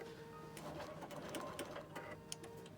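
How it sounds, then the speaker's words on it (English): A Bernina Q series sewing machine runs a short locking stitch, a faint, fast mechanical whir with light needle ticks, heard alone and close by. "now it's taken a little locking stitch"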